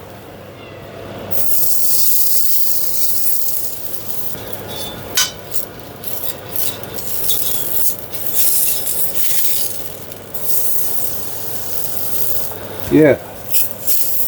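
A nutmeat patty sizzles in oil in a frying pan, a steady close hiss that runs throughout with small crackles and pops, under a brief word of speech.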